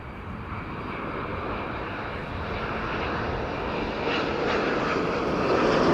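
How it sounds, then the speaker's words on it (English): A KLM Boeing 787-10 Dreamliner arrives at Amsterdam Schiphol, its jet engines a broad steady roar that slowly grows louder as the aircraft approaches. "This is KLM flight 741 arriving from Cartagena in Colombia. 787-10 Dreamliner"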